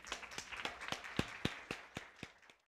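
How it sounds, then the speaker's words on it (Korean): Scattered, sparse clapping from a small audience welcoming a guest at a smart-work talk concert, about a dozen distinct claps in an uneven rhythm, fairly quiet and close, then stopping abruptly. "큰 박수로 환영해 주시기 바랍니다."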